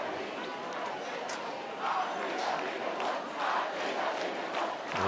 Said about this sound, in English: Look who's leading the cheer right there, KD.